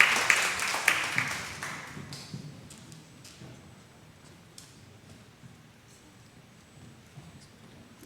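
Church congregation applauding during a Sunday worship service at Hanseong Holiness Church to encourage youth and children before they sing; a loud burst of clapping in the opening two seconds that quickly thins to scattered claps and quiet room noise.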